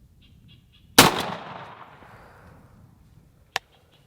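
Winchester SX4 shotgun firing Premier Magnum 3-inch 5-shot turkey loads through an Undertaker choke outdoors: one sharp loud blast with a rolling decay, followed a few seconds later by a distant short crack.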